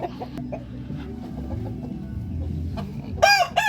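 Fighting cocks on a small farm clucking and calling steadily at close range, with a louder, sharper rooster crow bursting out near the end.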